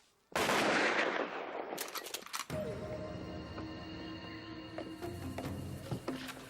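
Gunshots fired on a spoken command, starting with a loud close volley that rings out, then further shots and echoing reports over a lingering rumble.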